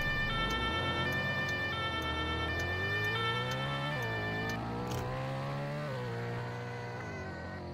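Police car sirens in the video game Roblox wail loudly and continuously, pitch sweeping up and down, alongside a steady ticking, with no speech.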